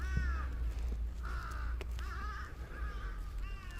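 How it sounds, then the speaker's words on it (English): Crows caw several times through a peaceful morning street walk in Saga City, Japan, with harsh, slightly hoarse calls at moderate distance over a low steady background rumble. "Only the crows are making a little bit of noise"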